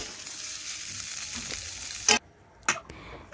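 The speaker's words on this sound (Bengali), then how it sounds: "দেখুন সয়াবিনটা ভালোভাবে ভেজে নিয়েছি" Soybean chunks frying in hot oil in a wok give a steady close sizzle, broken near the end by two sharp scraping stirs, with no talking.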